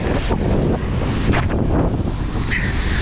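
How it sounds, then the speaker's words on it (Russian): Large storm waves crash and wash along a Crimean shore in strong wind, a dense roaring surge with heavy wind buffeting the microphone throughout. "Просто дичайший накат волн идет."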